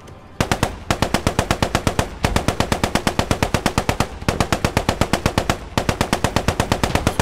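Rapid automatic gunfire in the war game Post Scriptum, loud sustained bursts of machine gun fire with short gaps between them, no voices.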